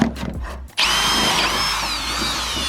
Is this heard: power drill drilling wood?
yes